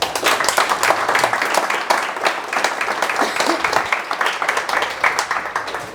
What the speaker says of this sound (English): let's give him a very warm round of applause